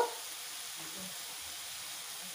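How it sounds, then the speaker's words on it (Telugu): Chopped onions with turmeric frying in a pan for a village-style cluster bean curry, a steady faint sizzle and hiss running throughout with no voices. "ఒక కప్పు ఆనియన్ ముక్కలు ఇవి వేసుకొని కొంచెం ఫ్రై కానివ్వాలి."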